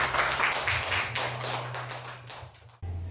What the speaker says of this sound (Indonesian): Tepuk tangan dulu buat Ijana.